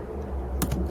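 A few quick keystrokes on a computer keyboard make soft, close clicks, two or three taps grouped together over a faint background hum, with no speech.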